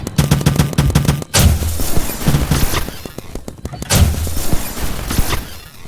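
Rapid bursts of turret gunfire and explosions from the real-time strategy game Command and Conquer Zero Hour, loud and dense, in repeated volleys with brief gaps and overlapping blasts.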